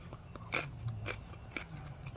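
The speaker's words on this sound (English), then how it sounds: "Listen to that crunch." Three crisp crunches come as someone bites into a raw home-grown pepper outdoors, each snap sharp and close, evenly spaced over a quiet background.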